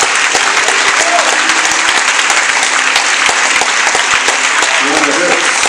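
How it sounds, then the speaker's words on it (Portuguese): A church congregation applauds loudly and steadily, dense clapping filling the room throughout with a few voices faintly mixed in. "Vamos aplaudir o nosso Deus."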